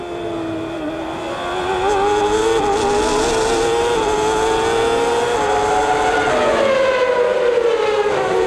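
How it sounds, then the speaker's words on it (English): A 1994 Formula 1 car heard onboard at Silverstone, its high-pitched engine wailing loud and close as it downshifts in quick steps for the Priory corners, then climbs again in pitch. "See how quickly they have to downshift for these new Priory corners."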